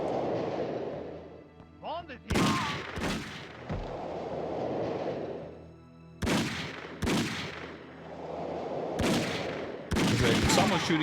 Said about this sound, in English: Someone's shooting at me from somewhere.